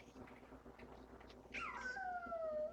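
At an outdoor camping event, an audience member imitates a howl, one rising then falling wavering cry, moderately loud over faint crowd ambience.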